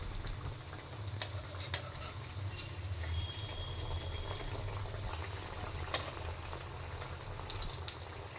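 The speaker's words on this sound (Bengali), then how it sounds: "লাল লাল করে এগুলোকে আমি ভেজে নেব" Small pieces of battered food frying in hot oil give a steady, moderate bubbling and crackle with scattered faint pops, continuous throughout and with no voices.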